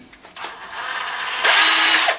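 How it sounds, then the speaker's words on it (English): A power drill whirs while a PC case fan is being fitted, starting with a steady mid-level run and then surging into a louder, harsher burst before cutting off. The drill is close and heard alone. "I made light work of that drill"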